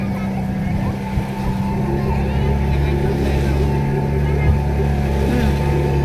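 Speedboats on a lake at Telaga Ngebel, a steady loud engine drone with low throbbing hum running throughout, with some background noise.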